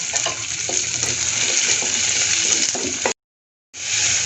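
A large chopped onion and five or six chopped green chillies hit hot oil in a pan, giving a loud, dense, steady sizzle, briefly cut by a moment of silence before resuming.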